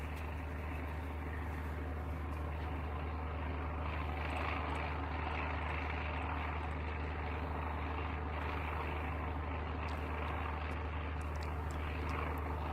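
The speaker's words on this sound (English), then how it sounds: "I hear the plane." In the video game Surroundead, a propeller airplane drones overhead with a steady, continuous engine rumble that holds even in loudness throughout, with no voices over it.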